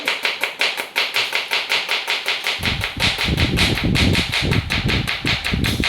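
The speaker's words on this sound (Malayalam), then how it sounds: "നമ്മൾ കറിക്കുള്ള സവാള അരിയുകയാണ്" A knife chops onions for a chicken biryani curry in fast, even strokes, a rapid close tapping on a board that continues throughout, joined by a fuller rustling thud partway through, with no voices.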